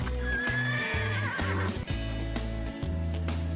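A horse whinnies and snorts over steady clip-clop hoofbeats and backing music, a lively sound effect in a children's story about a brown horse.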